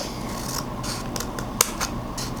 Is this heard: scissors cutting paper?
yes